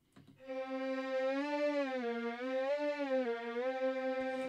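A Spitfire Audio sampler instrument loaded in Kontakt holds one sustained, richly harmonic note while the pitch bend wheel slowly pushes it up and down in gentle wavering swoops; moderately quiet and alone, with no voices.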